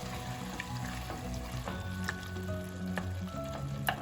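Turkey chili soup with stewed tomatoes is stirred in a hot pot, a steady sizzle under wet scraping and sloshing with light clinks of the spoon, close and moderately quiet.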